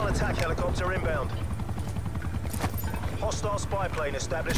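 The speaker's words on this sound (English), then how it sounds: "Helicopter inbound." A helicopter in the Call of Duty Cold War video game thumps in a steady loud rotor chop, with game voices and other battle sounds layered over it.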